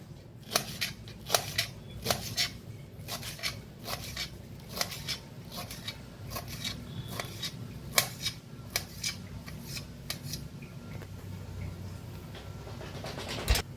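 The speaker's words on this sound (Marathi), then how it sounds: "कोथिंबीर कापून घेते, बी कापून घेऊया।" A knife chops fresh coriander on a cutting board in a steady run of quick, close, crisp taps that continue throughout at a fairly quiet level.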